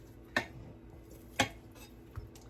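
Knife cutting beef pot roast into smaller pieces for canning, heard as two sharp, close clinks a second apart and a fainter tap later over a quiet kitchen background, with no talking.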